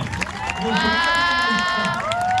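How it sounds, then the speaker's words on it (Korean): Wedding guests at an outdoor autumn wedding cheer and applaud for the groom, a dense crowd roar with sustained high whoops ringing over it throughout. "오늘 신랑에게 이만큼의 박수와 함성을 보내주셨다면"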